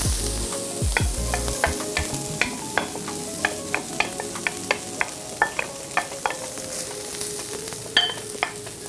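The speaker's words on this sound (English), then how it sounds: "I've got my cast iron pan super hot and it's dry. I'm not putting any oil in it. I'm gonna add my corn." Corn kernels hit a very hot, dry cast iron pan with no oil, giving sharp scattered pops and crackles over a steady sizzle, with some stirring scrapes near the start.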